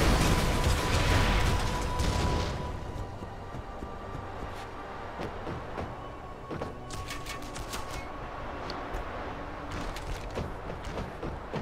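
A thrown explosive detonates in the video game Red Faction: a loud, broadband blast fills the first two seconds, then settles into a lower rumbling bed scattered with sharp clicks and debris-like pops.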